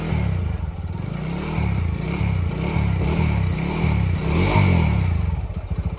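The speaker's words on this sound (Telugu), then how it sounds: "బండి అయితే స్టార్ట్ చేశాను స్టార్ట్ చేసిన తర్వాత క్లచ్ క్లచ్ నొక్కేసి ఫస్ట్ గేర్ అయితే వేసాను" Motorcycle engine idling steadily with the clutch pulled and first gear engaged, a close, even mechanical chug with light clatter and slight surges, heard alone.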